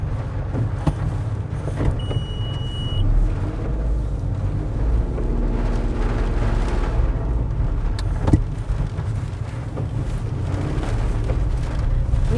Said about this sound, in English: Windy and rainy now.